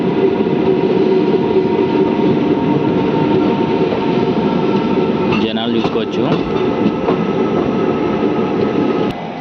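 The Palnadu SF Express runs between Guntur and Vikarabad with a constant loud rumble and rattle of its coaches, while a person speaks briefly over the noise.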